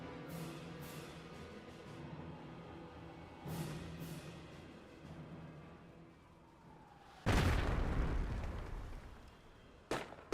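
A mortar explosion in the strategy game Company of Heroes, one loud sudden boom that rumbles and fades, followed by another sharp blast, amid softer distant battle pops.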